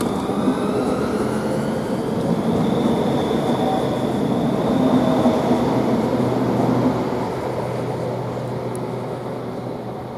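A Thameslink train pulls out of Rochester station, a steady broadband rumble of wheels and traction that holds loud and near for most of the stretch, then eases slightly as it moves away; no voices.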